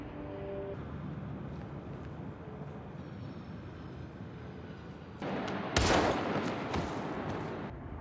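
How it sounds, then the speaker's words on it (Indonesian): A film scene with a gunshot to the head in a remote place. A loud, sharp shot cracks over a low background rumble, with a further burst of noise around it. "Ray membawa Vinny ke tempat yang terpencil. dan menembaknya di kepala."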